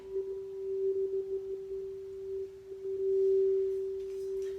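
A low-pitched tone from a chakra sound healing instrument holds steady and pure for several seconds, soft and even with a slight pulsing flutter near the start.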